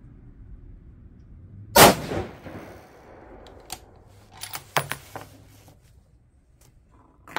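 A 6.5 PRC rifle loaded with 130-grain ELD-M bullets fires a single loud, sharp shot with a short ringing decay, followed by scattered mechanical clicks and handling noises close by.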